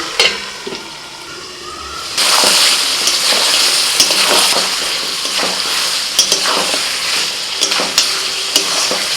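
Meat sizzling and frying in a pan with ginger, garlic and green chili paste being stirred in, a steady hiss with scraping stir strokes and occasional clinks of the utensil, loud and close with no talk.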